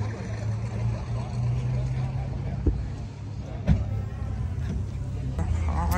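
A non-turbo JDM car pulls out of a cars and coffee meet, its engine humming steadily at moderate distance with a couple of brief thumps, and people chatting faintly over it.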